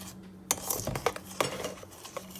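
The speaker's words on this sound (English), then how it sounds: "So now I'm going in with my yeast, 1 teaspoon of yeast. So let's mix it." A teaspoon of yeast is stirred into bread dough ingredients in a bowl, with a few light metallic clinks and scrapes of a utensil against the dish, quiet and close.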